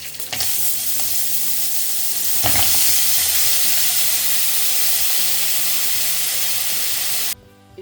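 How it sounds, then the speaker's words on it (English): Shrimp fry in a little oil in a pan for shrimp fried rice, a loud, steady sizzle with occasional stirring scrapes running close and unbroken for several seconds before cutting off abruptly, with no talk. "So we add a little bit oil. We will cook first our shrimp."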